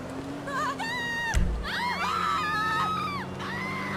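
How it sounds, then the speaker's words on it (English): People screaming in GTA V, several shrill wavering screams and shouts from a crowd over a constant background hum, with one brief thud in the middle. "Who the fuck is screaming?"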